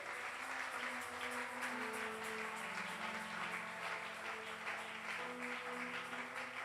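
Church congregation applauding in praise, a steady, dense clapping crowd with faint sustained tones and voices mixed underneath throughout.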